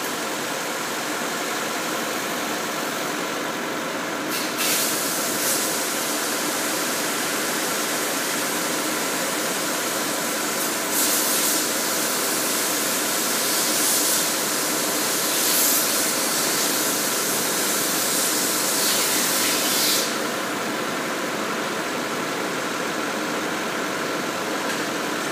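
A 2007 Nissan Altima's 2.5 engine runs steadily at idle, a close, even hum with constant loudness and a faint hiss throughout, no voices.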